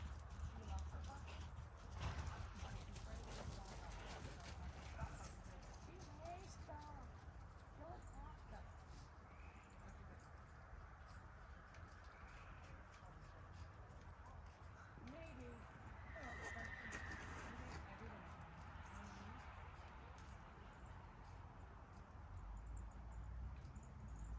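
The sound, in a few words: horse cantering, hoofbeats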